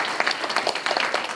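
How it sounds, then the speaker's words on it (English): Audience applause at an evening community meeting greets the new fire chief, a steady wash of claps throughout that is fairly soft and somewhat distant. "clap it up for him"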